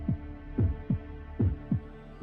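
Deep, throbbing heartbeat pulses from a castle in the Fate Grand Order video game, beating in an uneven double rhythm about six times over a low, steady hum, with no voices.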